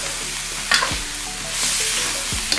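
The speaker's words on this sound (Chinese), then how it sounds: "倒油，葱姜爆香，爆香后放牛尾巴，稍微给它炒一下，豆瓣酱，" Oxtail is stir-fried in hot oil with scallion, ginger and bean paste. It makes a loud, close, steady sizzle with a few scraping strokes from the spatula and a surge of hissing partway through.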